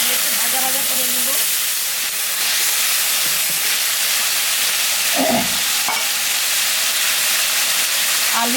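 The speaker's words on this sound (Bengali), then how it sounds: "আলু, ফুলকপি একটু ভাজা ভাজা করে নেব।" Potatoes and cauliflower frying in oil with cumin and dry chili make a loud, steady hiss and sizzle close up, with occasional clinks and scrapes of stirring and brief faint background tones.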